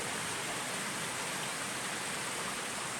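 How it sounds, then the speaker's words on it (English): Water flowing through a cave in Appalachian Caverns, Tennessee, a steady dense rushing hiss that stays constant and fairly loud throughout, no talk. "So now we've got water flowing here."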